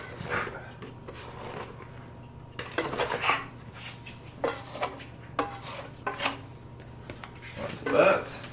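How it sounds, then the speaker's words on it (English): A bowl scraper scrapes sticky sourdough from a bowl in short, irregular scrapes and rubs, with light clinks of the bowl, heard close up amid quiet pauses. "I'm going to use my bowl scraper to scrape this out"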